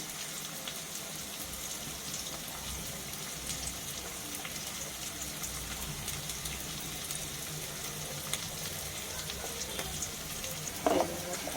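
Onion frying in a pan, a steady soft sizzle running throughout with faint scattered crackles and a brief louder clatter near the end.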